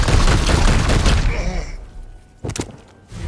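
A heavy barrage of gunfire from a Forge Titan in Warhammer 40k: Chaos Gate Daemonhunters, a dense roaring wall of blasts that fades out, then a couple of sharp impact thumps.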